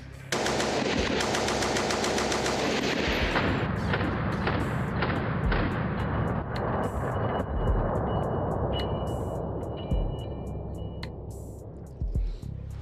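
A WW1-era machine gun fires long, rapid bursts of loud, sharp shots close by, the rattle continuing for many seconds before thinning into separate spaced cracks, with no talking.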